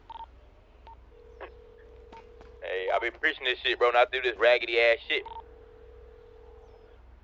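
Video game phone call: a steady ringback tone beeps at intervals and no one picks up, while someone talks loudly over the middle of the ringing.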